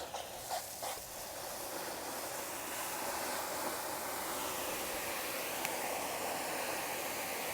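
Water gushes from a flushed street fire hydrant as a steady, soft broadband rush that holds without a break for several seconds.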